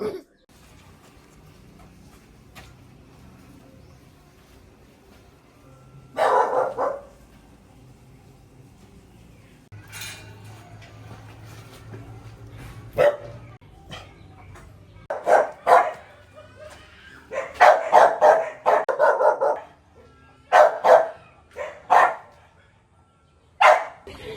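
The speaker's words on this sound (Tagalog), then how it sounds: "May aso na oh" A dog barks in scattered bursts, sparse at first then in quick clustered volleys, fairly close, with faint murmuring voices underneath.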